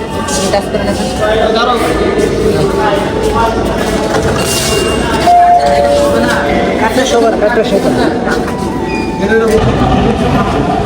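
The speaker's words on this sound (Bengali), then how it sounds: "অলরেডি ট্রেন চলে আসছে।" A metro rail train arrives at a station, its loud rumble and rail noise filling the platform, while people nearby talk over it and a crowd murmurs in the background.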